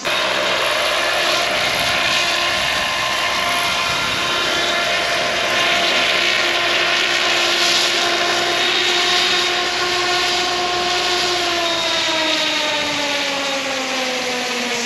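Velos UAV drone carrying a thermal camera payload, descending to land: a steady, continuous engine and propeller drone that holds close and loud throughout, its pitch sliding gradually lower near the end.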